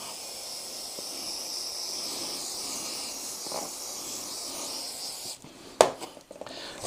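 Aerosol chain grease sprayed onto the chain of a Ducati Monster 1200 S, a faint continuous hiss lasting several seconds, then a few louder clicks and knocks close by.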